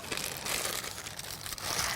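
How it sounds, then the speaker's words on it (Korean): Thin plastic kitchen glove crinkling and rustling as it is pulled on and handled while mixing a seasoned mung bean jelly and spinach side dish; a continuous close, dry crackle with no talk. "비닐장갑 하나만 주시겠어요?"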